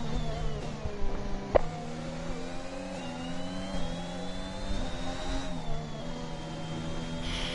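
Racing cars on an Australian track in a sim racing video game, engines droning and shifting pitch steadily throughout, with a brief sharp knock partway through and no talk.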